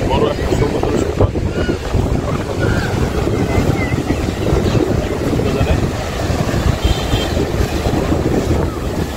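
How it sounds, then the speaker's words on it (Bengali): Ocean surf rolls steadily onto the wide sea beach at Cox's Bazar, a continuous loud wash of waves with heavy wind buffeting the microphone throughout. "অনেক বড় একটা সমুদ্র সৈকত।"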